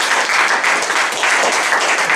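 Church congregation applauding: dense, loud, steady clapping from a large crowd, sustained throughout without pause.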